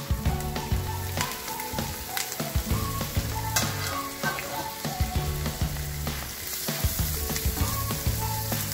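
Shredded chicken sizzles and fries steadily in a pan for pancit bihon, with stirring clatter, while music plays underneath throughout.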